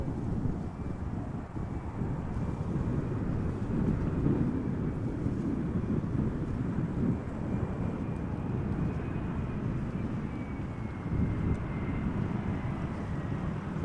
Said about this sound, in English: Arriving from Darlington, UK, KLM flight 1534, Embraer 175.